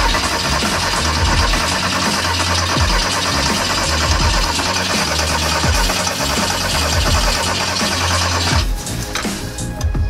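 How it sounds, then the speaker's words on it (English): A Porsche 914 engine turns over again and again with rhythmic cranking, loud and close, never catching before it cuts off near the end. "Wants to turn over, there's something holding it back."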